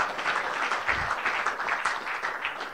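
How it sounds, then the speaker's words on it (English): A Lagos entrepreneurship event audience claps steadily and densely for nearly three seconds, a sustained wash of many hands at close range with no gaps. "I said clap."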